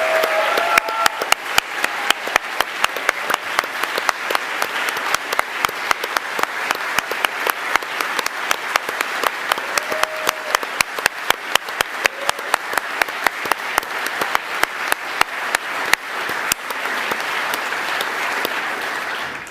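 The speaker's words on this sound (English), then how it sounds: "if we could please give them a big round of applause as they stand up" An audience at the 2021 Northern Territory Australian of the Year Awards applauds the four nominees as they stand, sustained rhythmic clapping from a large crowd with sharp individual claps standing out, loud and unbroken for the whole stretch.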